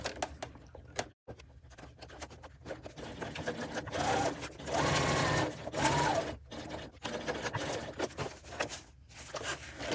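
A sewing machine stitches the side seam of a fabric bucket bag in close, rapid bursts of needle chatter separated by short stops, with fabric handling noises between runs.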